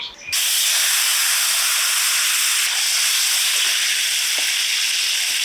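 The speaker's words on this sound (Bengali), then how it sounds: "এবার কড়াইতে মাছের তেলটা দিয়ে দিব" Mustard oil hitting a hot wok for rui fish curry sets off a loud, steady sizzling hiss that begins abruptly and continues unbroken throughout, with no voices.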